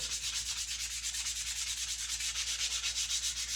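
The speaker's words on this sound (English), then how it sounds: "I know with the orbital sander it does get a little hard to follow" An orbital sander works across wood in a steady rhythmic rubbing grind, close and continuous, with no talking.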